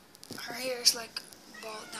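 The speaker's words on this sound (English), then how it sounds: "so that's my cat." A cat meows briefly a couple of times close by, mixed in with someone talking over it.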